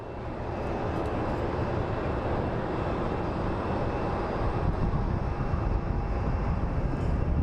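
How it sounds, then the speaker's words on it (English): A Southwest Airlines Boeing 737-800 arrives from Dallas at Phoenix Sky Harbor, its dense engine rumble swelling within the first second and then staying loud and steady to the end. "Up next is a Southwest Airlines 737-800 series coming in from Dallas."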